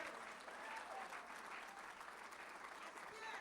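A church congregation at a Peru conference applauds in a continuous, even wash of clapping, heard faint and distant with voices mixed in.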